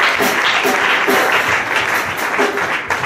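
A church congregation applauds loudly and steadily throughout a baptism ceremony, a dense wash of many hands clapping with a faint voice underneath.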